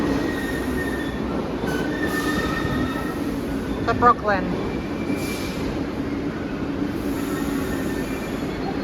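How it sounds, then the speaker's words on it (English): A New York subway train rumbles steadily into a station with squealing wheels and a brief sharp screech midway; a voice speaks briefly over the din. "Here comes my train"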